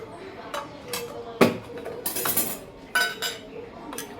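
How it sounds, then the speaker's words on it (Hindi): A spoon clinking against a glass of water while protein powder is added, several sharp metallic taps spaced irregularly, close and moderately loud, with someone speaking in between. "1 टेबलस्पून मैं इसमें ये प्रोटीन डालूंगी"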